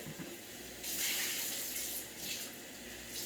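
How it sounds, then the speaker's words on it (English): A reusable drinking water bottle is rinsed under a running tap, water gushing and splashing for a few seconds after a brief quiet start, close and moderately loud with no voices. "So I'm going to rinse this out real good."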